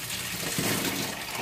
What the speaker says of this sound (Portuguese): Tem água na torneira.